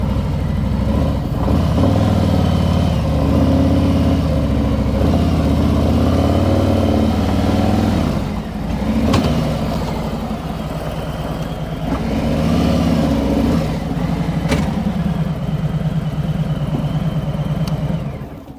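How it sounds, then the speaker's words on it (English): A motorcycle engine runs steadily at mid revs while riding up the center ramp of a Black Widow motorcycle ramp, close and loud throughout, with slight dips and surges in the throttle. "just get the front wheel set and then I just motor up the center ramp"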